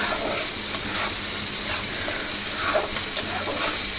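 Food sizzles loudly in a hot pan with oil as it is stirred, a dense continuous hiss with faint scraping strokes, close and unbroken.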